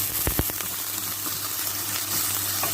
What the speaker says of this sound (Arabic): غادي ندوز ندير البصيله تشحر